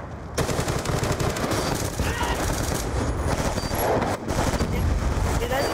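Loud, continuous gunfire and explosive blasts from a video game firefight, including rocket launcher fire, dense and near throughout, with a brief drop in the middle and voices faintly underneath.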